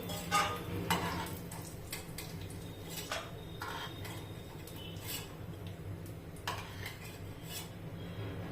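A utensil clatters and scrapes against a pan as sautéed grated carrot is scooped out into a dish, with irregular metallic taps over a low background hum and no talking.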